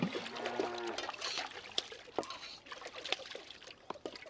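Water trickles and splashes in short uneven pours as someone washes their hands and feet, with small drips and a few splatters fairly close by.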